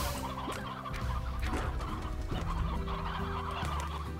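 Chickens cluck and gobble on a farm in the video game Slime Rancher, a steady busy flock chattering continuously over a droning background tune, fairly loud with no talking.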